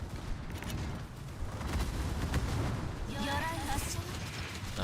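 Heavy naval gun salvos from German tier 10 battleship main guns in a warship game, deep booming blasts rolling under a continuous low rumble of ship noise, with someone talking over them.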